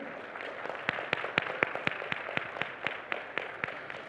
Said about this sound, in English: Can we have a loud cheer for that?